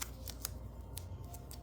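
Scissors cut paper for a handmade demo card in a quiet room, giving a quick series of faint, crisp snips spaced irregularly.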